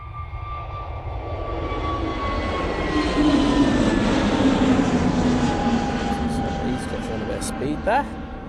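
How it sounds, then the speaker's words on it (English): An EasyJet Airbus A320neo jet taking off from Manchester Airport on a frosty day, its engine roar swelling from a distant whine to a loud, broad rumble and then slowly fading, heard from outside with a brief sound near the end. "our departure, which is the EasyJet going off to Tenerife using their A320neo"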